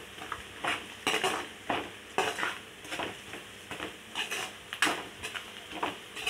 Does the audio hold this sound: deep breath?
no